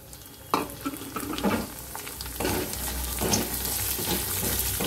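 Washed Gobindobhog rice being stirred as it fries in a pan, giving a steady sizzle with scraping stirs throughout, close and fairly loud, no talking.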